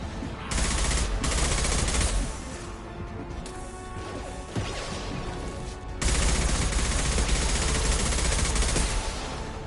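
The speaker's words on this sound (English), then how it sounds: "Taking heavy fire!" Heavy gunfire in the video game Mass Effect 2, sustained loud volleys mixed with crashing impacts and mechanical clatter. It eases briefly midway, then comes back at full force.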